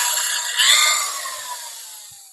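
Hitachi 18-volt polisher buffing clear coat on car paint, a steady close whirring hiss that swells briefly and then gradually fades.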